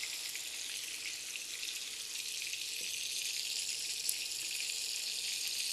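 Fish pieces frying slowly over low heat in a pan, a steady, even hiss of oil with no break or talk.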